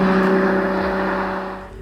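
A Ferrari 12 Cilindri V12 holds a high, steady engine note with strong harmonic whine, loud and close, then eases slightly toward the end.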